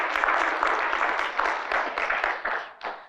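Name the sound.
weak hand clapping from a church congregation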